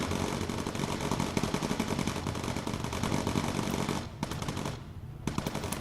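Rapid, continuous machine-gun fire from bomber gun turrets in the video game Bomber Crew, loud and dense with a dense rattle, briefly breaking off near the end before a few more bursts.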